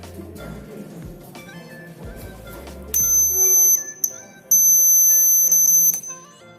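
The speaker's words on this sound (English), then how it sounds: "the circuit gets completed and the current flows to the buzzer" A shrill electronic rain alarm buzzer tone sounds twice, each about a second long with a short gap, over faint background noise.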